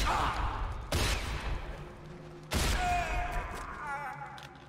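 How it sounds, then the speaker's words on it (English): Gunshots heard as two loud, sharp blasts about a second and a half apart, each leaving a ringing decay, with faint background noise between them. "Three shots."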